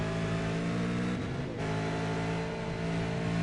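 V8 Supercars race in a pack at Oran Park: a steady, droning engine roar with layered tones, and one car sweeps past at about the midpoint.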